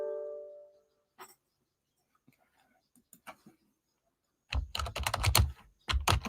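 Someone types on a computer keyboard, first a few scattered, faint taps, then a fast, close burst of clattering keystrokes with brief pauses.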